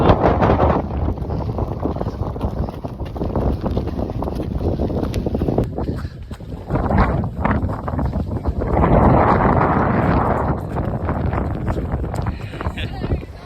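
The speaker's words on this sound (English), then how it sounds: "A little bit windy" Heavy wind on a coastal trail run near Newquay's sand dunes buffets the microphone in loud, rumbling gusts, with a person's voice partly buried beneath the roar.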